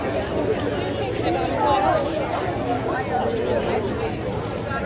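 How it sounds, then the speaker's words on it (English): A crowd chatters in front of a soapbox stage at a state fair, a steady, dense babble of many voices with no single voice standing out. "Give you a look at the changing crowd."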